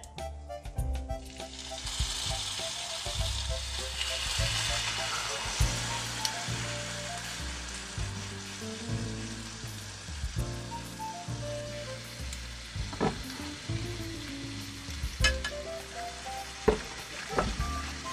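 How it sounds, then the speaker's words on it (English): Pot roast meat sears in a hot pan with a steady, close hiss and crackle, lasting throughout while a few faint clinks and scrapes land near the end. "So right now I'm just searing the meat"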